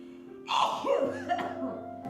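A single sharp sneeze, close and fairly loud, trailing off into a breath.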